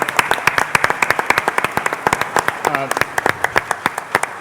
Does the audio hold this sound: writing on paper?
no